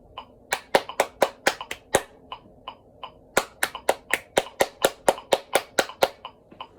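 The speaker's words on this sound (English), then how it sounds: "I'm just gonna clap it a few more times so I can kind of get the rhythm" Sharp hand claps in a rhythmic pattern, a quick burst of claps, a brief pause with a few softer ones, then another steady run of claps.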